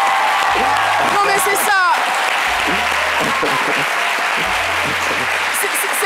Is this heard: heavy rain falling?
no